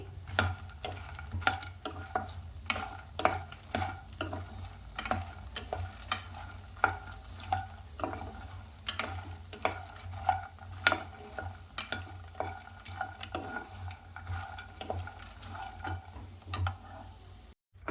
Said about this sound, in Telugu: ఈ తామర గింజల్ని ఫ్రై చేసుకుందాం. లైట్గా ఫ్రై చేసుకోవాలండి.